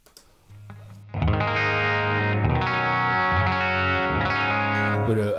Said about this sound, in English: The reason I have the tone up so high is because it's a bassy sounding big muff.